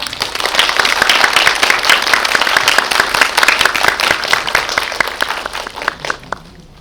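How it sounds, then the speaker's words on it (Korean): Cinema audience clapping to welcome guests at a screening Q&A in a Megabox theater, loud close applause with sharp individual claps that thins out and tapers off near the end. "큰 박수로 맞이해주세요."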